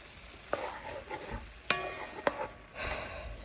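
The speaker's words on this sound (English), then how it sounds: "I'm going to mix that up and stir that in" Vegetarian bolognese stirred in a frying pan, with a few sharp spoon scrapes and knocks over a low, steady sizzle, close and moderately loud.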